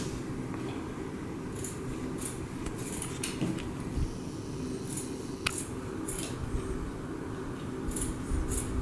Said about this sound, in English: Now cut approximately 1" by 3" strips around the entire blanket.